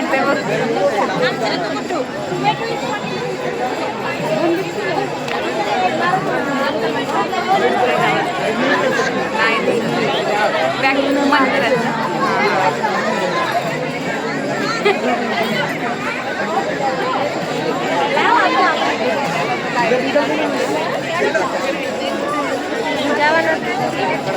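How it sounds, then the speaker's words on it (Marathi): Dense crowd chatter at the ISKCON Radha Madan Mohan temple in Kharghar on Ekadashi, with many overlapping voices forming a loud, continuous hubbub. "आज एकादशी असल्यामुळे थोडी गर्दी होती"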